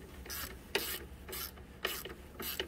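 A hand ratchet with a 10 millimeter socket works on a Dodge Journey's engine, giving five quick rasping clicking bursts at an even pace, close and fairly quiet, with no talking.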